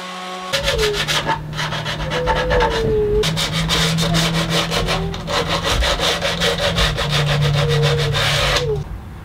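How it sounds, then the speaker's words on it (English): Steady back-and-forth abrasive rubbing of wood, loud and close, with a brief pause partway through. "After a bit of final sanding"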